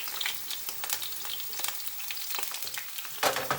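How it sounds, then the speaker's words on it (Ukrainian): Eggplant sizzling and crackling steadily in a hot pan, with scattered pops and a louder burst near the end, no voices. "Я відправляю на гарячу сковорідку."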